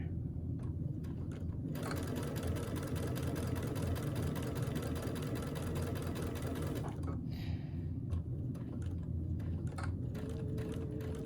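Sewing machine fitted with a walking foot quilting fabric, a steady close mechanical whirring hum running almost without a break, with one short pause partway through.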